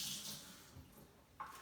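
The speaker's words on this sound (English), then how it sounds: "I'm just going to come over to my sink and add a little bit more water" A kitchen sink tap runs faintly, adding water for salt dough. A brief hiss of flow at the start fades into a quiet wash, with another short gush near the end.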